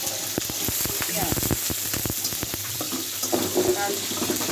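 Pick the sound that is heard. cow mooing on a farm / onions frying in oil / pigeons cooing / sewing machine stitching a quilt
onions frying in oil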